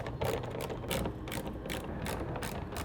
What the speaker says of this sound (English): Gotta grab our little ratchet and socket.